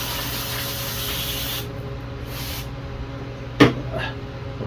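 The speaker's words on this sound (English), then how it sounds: "Carb clean." Carburetor cleaner sprays from an aerosol can onto a yard machine's carburetor parts: a steady close hiss, then a few shorter bursts and a single sharp knock near the end.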